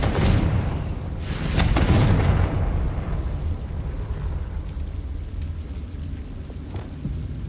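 A Confringo spell explosion in the video game Hogwarts Legacy: two sharp, loud blasts in quick succession, then a long rumbling, crackling decay that fades into a steady low roar.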